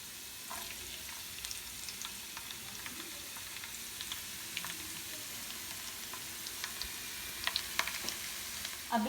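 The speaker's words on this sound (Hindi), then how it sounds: "इसमें मैंने प्याज ऐड कर दिया है, इसको मैं लाइट गोल्डन कलर करूंगी और उसके बाद इसमें मैं लहसुन ऐड करूंगी।" Onions and garlic frying in a pan for palak chana dal give a steady soft sizzle, with faint occasional clicks and scrapes of stirring, quiet and continuous.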